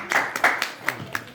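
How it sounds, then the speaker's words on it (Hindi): A handful of sharp, scattered hand claps, close and uneven in rhythm, over a faint background murmur. "जोरदार तालियां"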